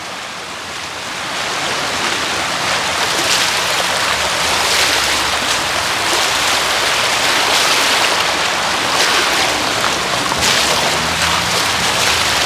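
Water gushes from a main water pipe broken by a JCB, flooding shops and homes in Duler, Mapusa. It makes a loud, continuous close-up roar like a waterfall that swells in the first seconds and then holds steady.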